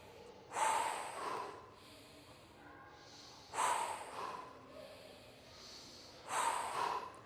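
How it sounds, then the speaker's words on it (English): Three sharp, forceful nasal inhales with quick exhales, spaced about three seconds apart, close and clear, an even breathwork rhythm similar to Wim Hof breathing. "it's just a quick inhale, offloading, inhale, offloading"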